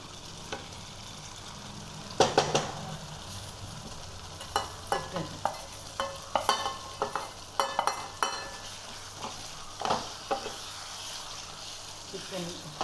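Chicken curry cooks in a pan topped with oil-fried onions, with a low background sizzle broken by repeated sharp scraping and stirring clatters of a utensil against the pan at irregular intervals, close by.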